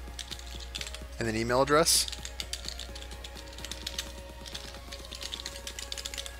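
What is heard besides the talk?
typing on a computer keyboard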